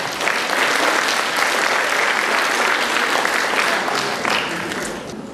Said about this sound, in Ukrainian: Ніна Павліна, ми тобі також аплодуємо